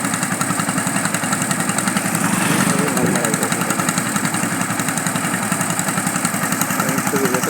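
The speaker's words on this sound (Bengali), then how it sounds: "মোটর সাইকেল আসছে" A motorcycle engine chugs along a village road lined with threshed rice straw, its throbbing mid-pitched drone swelling slightly as it passes close by.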